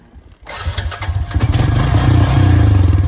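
A four-wheeler engine cranks over in rapid, uneven bursts, then catches and settles into a loud, steady idle right up close, with no talk over it.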